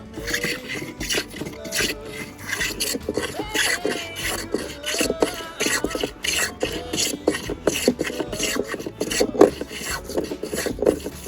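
A hand tool scrapes and rasps rhythmically into an ancient oak beam during a barn renovation, giving steady close strokes of moderate loudness with brief scratchy bursts throughout.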